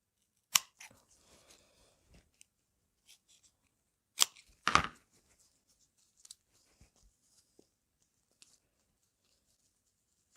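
Scissors snip a slit into an earring backing while making sequin flower earrings, a few sharp close cuts separated by quiet handling noises.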